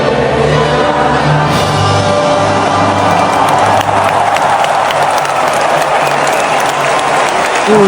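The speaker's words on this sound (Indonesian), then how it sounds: "Tepuk tangan semua guys." Stadium crowd of Japanese football supporters applauding at an Indonesia versus Japan match, steady massed clapping with some cheering, loud and continuous throughout, with low music or chanting underneath.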